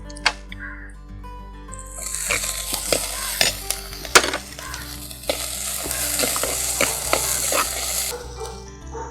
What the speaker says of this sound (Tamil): இப்போ நல்லா வெங்காயம் வதங்கிடுச்சு. இப்போ நம்ம அடுத்து தக்காளி சேர்த்துக்கலாம்.